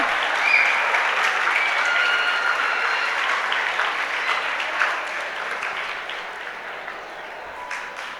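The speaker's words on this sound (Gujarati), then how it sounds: "જોરદાર તાળીઓ" A crowd at Shree Aastha School in Jasdan claps loudly to honour top 10th-standard exam results. The applause is sustained and dense, then eases slightly toward the end of about eight seconds.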